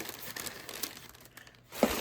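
Paper envelopes crinkle and rustle as they are tucked back into an art advent calendar, soft intermittent crackles close by with a sharper crunch near the end, no talk.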